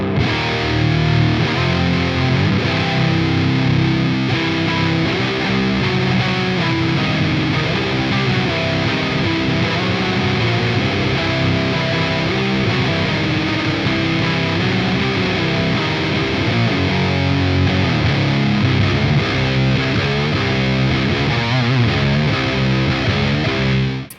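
An electric guitar runs through a Keeley Octa PSI fuzz pedal with reverb and delay. It plays a continuous, thick, heavily distorted sustained passage at a strong, even level with no talking.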